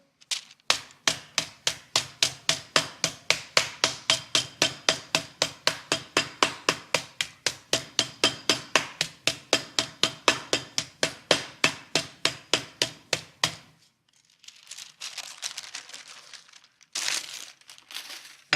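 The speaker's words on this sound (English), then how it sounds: "And then I'm going to put another piece of paper on the top of it, take my mallet," A mallet pounds butterflied meat through a covering sheet of paper in rapid, evenly spaced heavy thuds, about three per second and close up, before stopping abruptly, followed by softer rustling of the paper.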